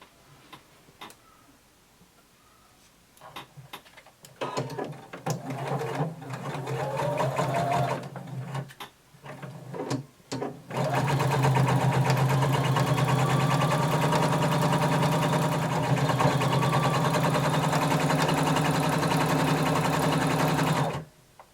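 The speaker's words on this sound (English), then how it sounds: "now we're going to sew our skirt to the bottom of our band using 5/8 of an inch seam allowance." A sewing machine joins a flared skirt to its waistband with a 5/8-inch seam, first in short stop-start bursts, then in one loud, steady, rhythmic run.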